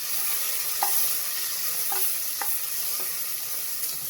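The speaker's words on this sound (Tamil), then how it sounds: "பெரிய வெங்காயம் ஒன்று நீல வாக்கில் நறுக்கினதை சேர்த்துக்கலாம். அடுப்பை சிம்மில் வச்சு கிளறி கொடுத்துக்கலாம்." Steady sizzling of sliced onions frying in a pan on low heat for chicken biryani, with a few sharp scraping clicks of a spatula stirring at intervals.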